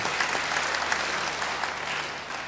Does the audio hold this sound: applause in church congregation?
yes